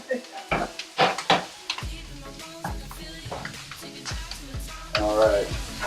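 Greens and bacon sizzle in a pan alongside sweet potatoes, a steady frying hiss broken by close clanks and scrapes of stirring utensils against the pan, with bits of talk in between.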